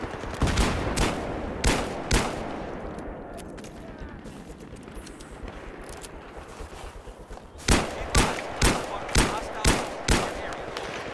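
Hand cannon gunfire in Destiny cracks out in sharp, heavy single shots, first a rapid cluster, then a pause with low ambient noise, then another steady volley.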